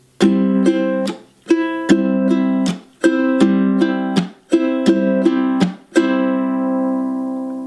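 A ukulele strummed alone in a steady, repeating rhythm, bright chords ringing with quick down and up strokes, ending on a final chord left to fade.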